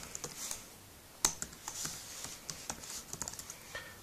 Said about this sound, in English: So I'll type in my email address